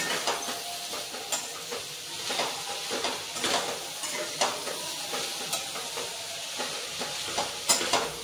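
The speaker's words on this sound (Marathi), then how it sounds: "आता हे सर्व परतून घेऊ।" Shredded cabbage stir-fried with salt, turmeric and chili in a hot pan, a steady sizzle broken by repeated scraping stirs of a utensil, close and fairly quiet.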